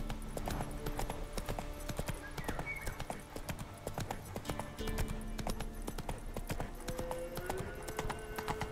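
In The Witcher 3, the horse Roach gallops with a rapid, continuous clatter of hooves against a quiet game background, with a few tonal music notes mixed in.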